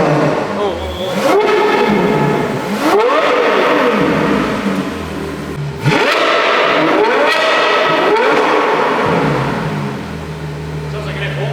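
A Ferrari 812 GTS fitted with a Novitec racing exhaust revs hard several times, loud and close, with rising and falling engine sweeps and people talking over it.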